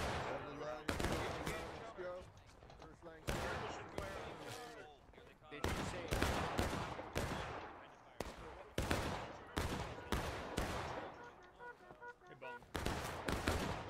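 Musket volleys in a Civil War battle game, loud rapid cracks of massed rifle fire bursting in clusters and overlapping without pause, with shouted commands mixed in.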